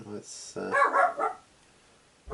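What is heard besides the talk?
dog barking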